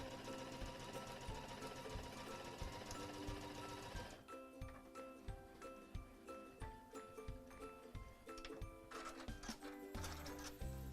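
A home sewing machine piecing fabric bunny-ear shapes with a quarter-inch seam, running in fast, even, rhythmic stitching bursts with quick mechanical ticks, close and clear over faint background music, with no talk.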